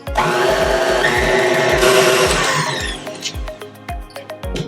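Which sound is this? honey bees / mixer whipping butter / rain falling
mixer whipping butter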